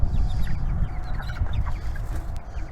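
Chickens cluck softly in an indoor coop with wood-chip bedding, scattered short calls over a low steady rumble of background noise, no voices.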